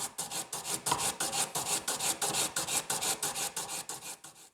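A gold wedding band is ground flat at a jewelry workbench, with steady rhythmic rasping strokes, about four per second, close and moderately loud with no talking.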